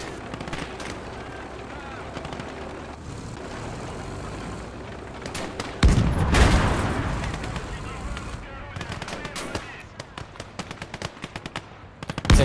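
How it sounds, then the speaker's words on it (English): Battlefield video game combat plays out, with rapid bursts of automatic gunfire, sharp cracks and a heavy booming explosion midway followed by more scattered shots, loud and near under occasional talk. "just occasionally hearing cracks of gunfire and explosions"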